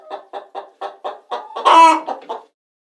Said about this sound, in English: Chicken says, cluck,